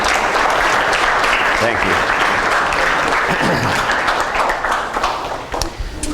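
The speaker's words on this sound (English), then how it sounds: "give a round of applause to our guests" An audience applauds the guests at a lecture-series event with dense, sustained clapping that fills the room for several seconds, then thins out as a voice briefly begins to speak near the end.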